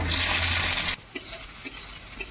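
Onion fries in a kadai with oil, panch phoron and green chili, starting as a loud dense hiss that cuts off abruptly into a quieter sizzle with a few clinks of stirring.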